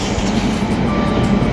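A London train carriage on a cold day gives off a loud, steady rumble and roar with constant running noise throughout a brief moment, and no voices are heard.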